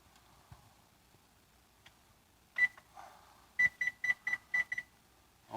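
A kitchen timer is being set for six minutes during egg sandwich prep: a quick run of about six faint, short electronic beeps in a fast cluster, preceded by a single beep and soft kitchen clatter in a quiet room.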